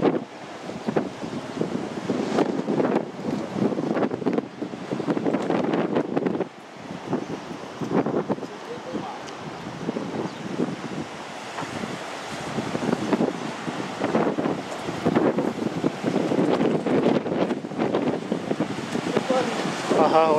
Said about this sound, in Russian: Несмотря на то, что море внутреннее бушует.